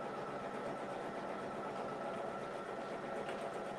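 Embroidery machine stitching out a mug rug, a steady close whirring hum with a fast even needle rhythm and no voices.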